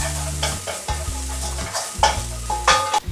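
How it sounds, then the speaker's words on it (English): Orange zest toasting in a hot pan, with repeated close scrapes and stirs over a light sizzle, arriving in uneven bursts and no one talking. "So I'm just going to give that a moment over the heat to toast the orange zest and bring out all the flavour"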